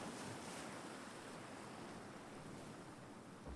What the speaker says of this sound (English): we were just hearing the water